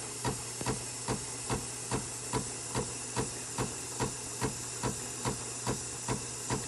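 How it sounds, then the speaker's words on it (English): Steady loud hiss of a steam wand heating milk, with a regular soft ticking pulse repeating about every half second throughout. "It's okay just to steam it and heat the milk up."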